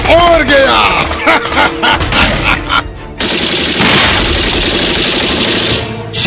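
Bursts of machine gun fire and rifle shots crackle through a film battle scene about Major Somnath Sharma, dense and rapid, with a voice shouting over the opening volleys before continuous loud firing takes over.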